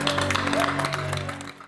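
Applause from a small group celebrating a freshly recorded song, steady dense clapping over a background tone with some voices mixed in, fading out near the end.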